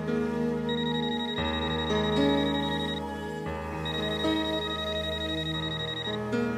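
A phone rings over a bed of sustained music, its repeated electronic ringtone tones coming in two long bursts.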